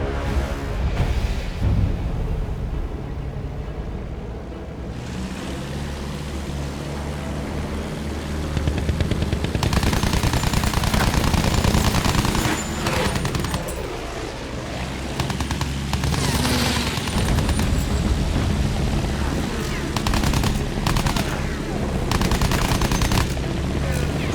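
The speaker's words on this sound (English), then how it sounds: "We shoot them down!" Dense, continuous gunfire from Battlefield 1 game combat: loud machine-gun bursts and rifle shots layered with booms, sustained throughout with no pause.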